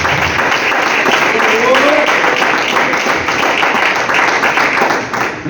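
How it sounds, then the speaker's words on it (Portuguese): A church congregation applauds during a worship service, a loud, continuous wash of clapping that swells and stays sustained, with faint voices mixed in. "desocupe as mãos e aplauda Jesus"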